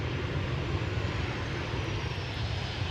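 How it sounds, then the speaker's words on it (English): An Airbus A340 takes off from runway 24 at Amsterdam Schiphol on a hazy day, its engines giving a steady, continuous roar that stays loud and even throughout, with no voices. "A340 is taking off from runway 24."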